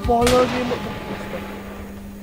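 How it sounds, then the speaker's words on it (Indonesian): A loud pistol shot fires in a horror video game featuring a spider-legged, man-eating train, a single sharp blast that decays with a lingering echo over a steady game hum, with a voice briefly speaking at the start. "Ada suara tembakan tuh teman"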